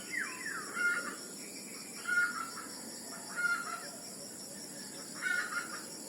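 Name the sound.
hen clucking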